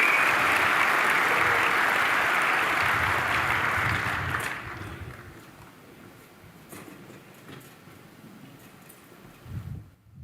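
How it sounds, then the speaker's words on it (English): Audience applause and cheering at a sports event fills the first four seconds loudly, then fades away to quiet room tone with a brief burst near the end. "give yourselves a huge cheer, please"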